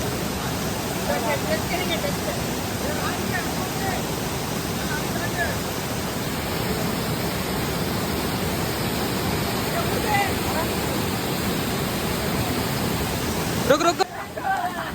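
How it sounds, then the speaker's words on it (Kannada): Arabailu falls roars with a continuous, dense rush of falling water heard close up. The sound is loud and unbroken throughout, with a brief knock or handling bump near the end. "ಇದ ನೋಡ್ರಿಪ್ಪ ಅರಬೇಲು ಫಾಲ್ಸ್"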